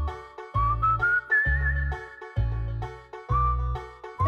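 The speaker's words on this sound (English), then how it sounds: "that's those whistling plumbers" Jaunty whistling from a plumbers' advert carries a bright, sliding tune over a steady, rhythmic bass beat in short repeating phrases, clear and prominent.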